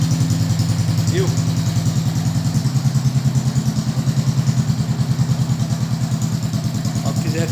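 A motorcycle idling through a loud aftermarket exhaust fitted with a hand-operated butterfly valve, a close, steady low-pitched rhythmic rumble with evenly spaced pulses that holds throughout.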